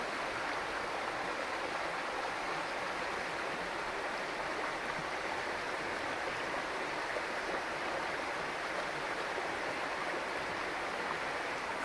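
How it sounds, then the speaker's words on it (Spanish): Icy mountain stream water rushes steadily and close by, a dense continuous hiss and burble that stays even from start to finish with no voices. "Se los dejo para que escucharan el agua,"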